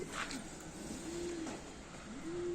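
A young Shami pigeon gives soft, low rolling coos, two drawn-out calls a second apart, faint against quiet outdoor background.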